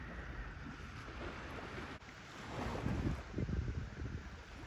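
Small waves wash onto a lake beach in Door County, Wisconsin, a steady soft rush of water mixed with wind buffeting the microphone, no voices.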